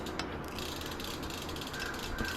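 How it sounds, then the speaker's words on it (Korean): A pedal wrench firmly tightens the pedal on a tri-fold folding bike, giving a steady mechanical ratcheting and creaking close by, with no talking. "이렇게 힘을 줄 수 있는 페달 렌치로 강하게 조입니다"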